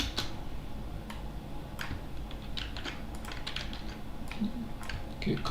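A command being typed on a computer keyboard, a run of light irregular key clicks with short pauses between bursts, close by and quiet with no voices.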